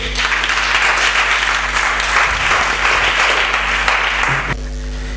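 A church congregation claps loudly and steadily, a dense wash of applause that cuts off abruptly near the end, leaving a low hum.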